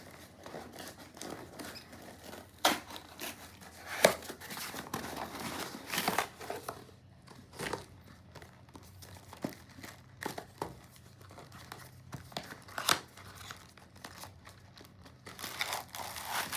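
Hands tear open a taped parcel, giving close crinkling, rustling and ripping in irregular bursts across the whole stretch, with quieter pauses in between.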